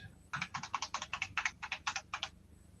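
Rapid typing on an extended computer keyboard, a steady run of about a dozen close, crisp key clicks in quick succession over a faint background hum.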